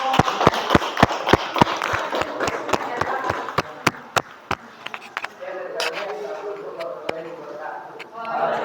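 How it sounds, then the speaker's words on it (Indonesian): A classroom audience claps in a quick, distinct run of sharp hand claps that thin out to scattered slaps, with faint chatter underneath and a voice near the end. "cukup kita beri tepuk tangan untuk"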